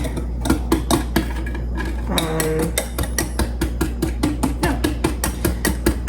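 Danish pastry ingredients are mixed in a bowl, with a utensil beating in fast, regular knocks and clinks against the bowl and a brief ringing tone partway through, close and steady with no talking.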